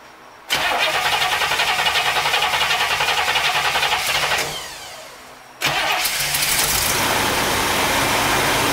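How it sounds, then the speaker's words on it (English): A 1964 Cadillac with a fuel supply problem cranks and fires into a loud running engine nearby, dies away after a few seconds, then catches and runs again. "crank the engine and see if I can get fuel out that way"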